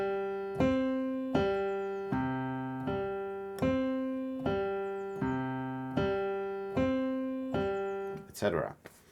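A piano repeats a four-key pattern over and over, each evenly spaced note ringing and decaying in a steady rhythm before a short rustle at the end.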